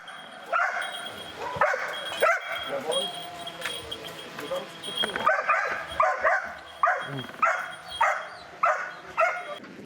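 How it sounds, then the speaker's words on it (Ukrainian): A search and rescue shepherd dog from Poland barks repeatedly, the sharp barks getting steadier and more rhythmic toward the end, with some voices and outdoor noise mixed in. "На тренувальні завали у Вінниці заходить пошуково-рятувальна вівчарка з Польщі Карла."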